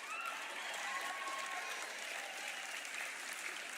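A comedy-show audience applauds steadily, a dense, even wash of clapping from many hands that holds at one level from start to finish with no voices above it.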